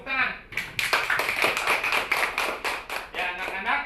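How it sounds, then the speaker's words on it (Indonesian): Schoolchildren in a classroom clap their hands together, a fast, close patter of claps lasting a few seconds, with a voice briefly before and after. "Tepuk tangan."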